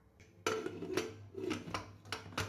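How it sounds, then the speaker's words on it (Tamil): A few metallic clanks and clatters of a lid being set onto a pressure cooker, sharp knocks spread unevenly over a couple of seconds, close by. "தண்ணி சேர்த்த பின்னாடி குக்கருக்கு மூடி போட்டுடலாம்."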